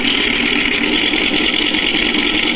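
Simulated engine idle from a MrRCSound V4 sound unit on an RC model, a steady loud buzzing drone that holds even throughout, close by with no talk.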